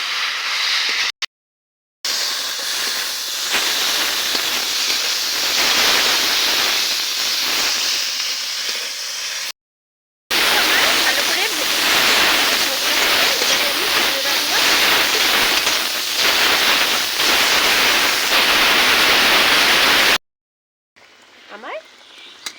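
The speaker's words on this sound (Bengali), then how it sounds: "এবার সব কিছু একসঙ্গে ভালো করে নেড়ে ফিরে ভেজে দেব।" Dried fish with onion and garlic paste and spices stir-frying in a pan, a loud continuous sizzle and hiss in two long stretches, broken by short gaps of silence.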